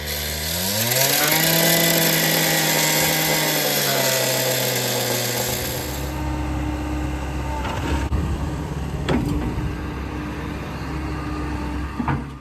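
An excavator with its bucket edge works slow, cold, frozen ground in winter, its diesel engine revving up loudly and then holding a steady, heavy drone, with a few scraping knocks near the end.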